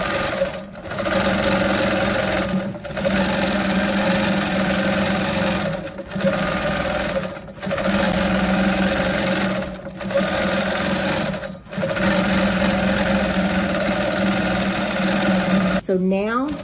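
A sewing machine stitches a quilted row with a steady, close mechanical whir, stopping briefly at regular intervals before starting again.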